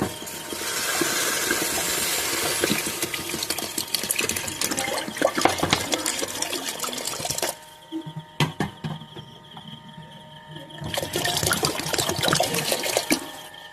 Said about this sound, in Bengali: এবার জল দিয়ে দিচ্ছি এর মধ্যে